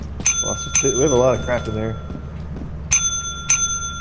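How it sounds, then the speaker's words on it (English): A bell in the video game Lethal Company rings in sharp pairs of bright metallic dings, early and again near the end, with players talking over the middle. "somebody go ring the bell"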